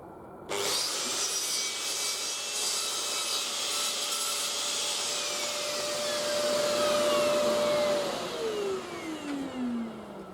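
Hand or power saw cutting through a timber feather board being trimmed to length for cladding over external blockwork, a steady loud rasping cut lasting most of the stretch, ending as the blade slows and the piece comes free.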